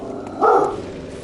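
A female dog indoors lets out a single short, sharp bark that is fairly loud against a steady quiet background.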